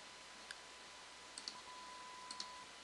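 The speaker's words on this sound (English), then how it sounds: "I'm going to click on the Browse button." A computer mouse gives a few sharp, faint clicks over quiet room hiss, with a single click near the start, then a cluster of two or three, then another pair and a last click at the end.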